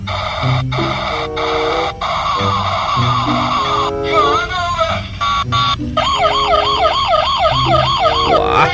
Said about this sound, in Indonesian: ini ada mobil polisi